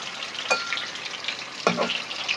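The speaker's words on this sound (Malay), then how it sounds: "Kita goreng tahu dulu ya." Tofu frying in a pan of oil, a soft, steady sizzle with two brief louder spits or stirs about a second apart.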